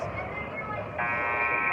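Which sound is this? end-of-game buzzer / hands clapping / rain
end-of-game buzzer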